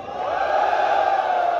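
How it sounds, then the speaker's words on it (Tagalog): A live FlipTop rap battle crowd roars and cheers together, a loud sustained wall of voices that swells and holds across the whole stretch. "magingay unang beses para ngayong gabi"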